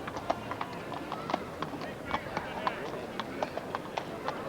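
A racehorse gallops in a hurdle race at Newcastle, a steady rhythmic drumming of hooves over the turf heard at a distance, mixed with crowd noise and a commentator talking over it.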